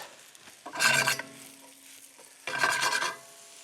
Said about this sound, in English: So now what we're going to do is just basically saute that.